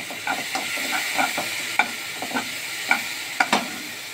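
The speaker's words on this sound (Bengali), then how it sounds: "ভালো করে মশলাটা কষিয়ে নেব" Spice masala with turmeric being sautéed in a pan, with soft frying sizzle under repeated scraping strokes of a spoon against the pan, evenly spaced and close by.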